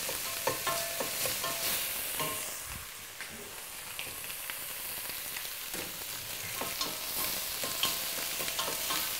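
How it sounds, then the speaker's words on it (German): Onions sweating and being stirred in a pan, softening toward light brown for stuffed cabbage rolls: a steady close sizzle with scraping spoon strokes throughout, no talk. "wenn die Zwiebeln leicht braun sind,"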